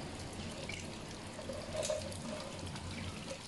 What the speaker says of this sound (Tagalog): Hugasan ko lang kasi madumi, daming putik.